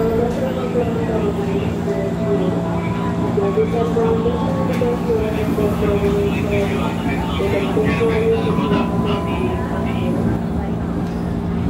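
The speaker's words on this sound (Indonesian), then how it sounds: "Perjalanan dari Tebet ke Jakarta Kota pakai KRL pasti bakal ramai" Steady rumble and hum of a Jakarta KRL commuter electric train carriage in motion, with constant mechanical drone and people talking underneath.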